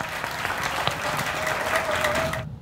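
An audience at a lecture event in Seoul applauds with dense, steady clapping that carries on evenly and then stops abruptly at the end.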